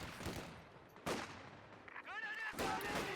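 Gunfire bursts in a Company of Heroes 2 battle, with sharp broadband volleys at the start and around each second, alongside in-game unit chatter and battlefield clutter.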